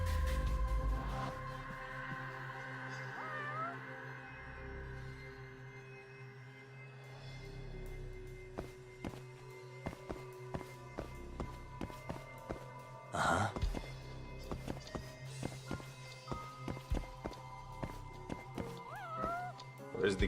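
A cat meows in the video game Judgment, a couple of short mews rising over game ambience and footsteps, with a brief loud clatter midway; no one speaks.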